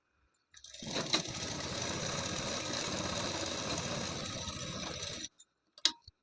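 An electric sewing machine runs in one continuous burst of about five seconds, stitching a blouse hook strip, then stops, followed by a few faint clicks.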